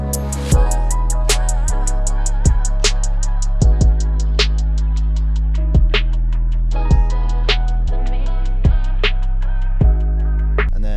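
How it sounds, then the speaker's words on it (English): A steady electronic beat with deep bass and crisp hits; the high end gradually dulls and muffles, then opens back up as a filter sweeps. "filtered out, filter's coming back in, and then with this, I'll have it filtering out"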